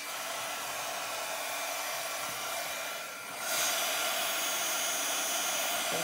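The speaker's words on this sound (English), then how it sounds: "I guess I'll go with the heat gun and see how it goes." A heat gun blows hot air onto wood, a steady loud whoosh that dips briefly then returns stronger, with no talking.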